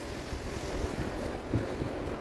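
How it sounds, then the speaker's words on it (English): Steady cold outdoor wind noise buffeting the microphone, a low rumbling roar with brief gusts, no voices. "It's fucking cold and windy."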